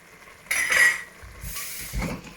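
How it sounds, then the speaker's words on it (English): Pre-cooked canda, pepper and onion tipped into a pot for a Nigerian pepper soup, giving a sharp metallic clatter and clink of utensil against pot followed by softer scraping knocks, close and without talk. "So now I'm going to add my pre-cooked Canda and the remaining of the pepper and onion"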